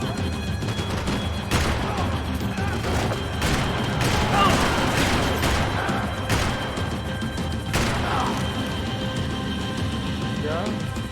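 Bursts of gunfire and crashing impacts fill a Max Payne 3 firefight, loud and repeated, with voices talking over the action.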